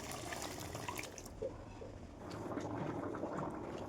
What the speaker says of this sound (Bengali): জল গরম করে রেখেছি, জলটা দিয়ে দেবো।